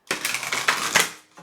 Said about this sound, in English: Hold on, I'm going to shuffle again.